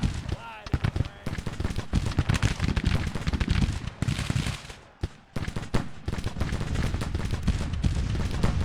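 Rapid, crackling volleys of Sharps rifle fire from the Grand Tactician: The Civil War strategy game pour out densely and loudly in repeated bursts, with a brief lull just past the midpoint and someone speaking over the shooting.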